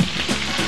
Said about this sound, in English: Now these meatballs are going to be turned on 4 sides in this oil.